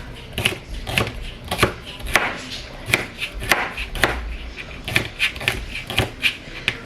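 A knife chops celery on a cutting board in a home kitchen, a steady run of crisp, close thuds at a quick, even pace that continues from start to finish.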